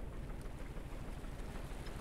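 A submarine engine in Stormworks runs at minimum throttle at sea, a continuous low rumble with a faint rhythmic pulse and washy wind-like noise, steady and unbroken.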